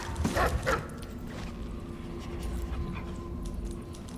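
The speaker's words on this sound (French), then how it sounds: "Les chiens sont mieux faits que dans le premier" Dogs barking in the stealth video game Dishonored 2: a pair of sharp barks near the start, then a low ambient game hum with faint scattered sounds.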